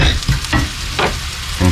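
Minced garlic sautéing in a hot pan alongside bacon, a loud close sizzle with a few quick stirring scrapes in short bursts.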